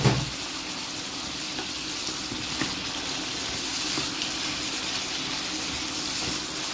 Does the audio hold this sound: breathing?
no